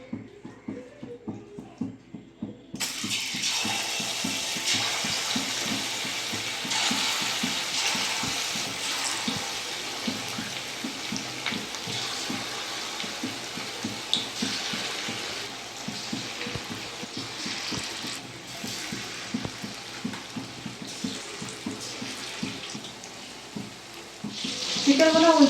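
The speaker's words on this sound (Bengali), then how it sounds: "তেল গরম হয়ে গেছে, চিকেনগুলো আমি একটা একটা করে ভেজে নেব।" Chicken pieces for chicken 65 fry in hot white oil in a wok, a continuous crackling sizzle that starts abruptly after a quiet moment, with stirring scrapes and occasional bursts, fairly close, no speech.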